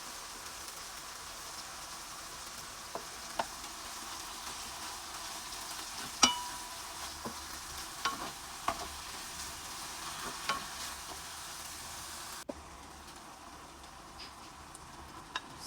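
Mushrooms fry in a pan, a steady broadband sizzle broken by scattered clicks and scrapes from stirring, fairly quiet and continuous, with a sharp drop in level near the end.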